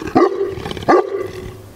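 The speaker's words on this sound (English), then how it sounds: "What's you barking at, sweetie?" Two loud barks from a Neapolitan Mastiff about 0.7 seconds apart, close by, the second trailing into a held, whining tone; no one talks.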